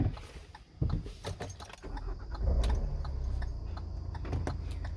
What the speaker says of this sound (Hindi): गाड़ी को स्टार्ट कर लेते हैं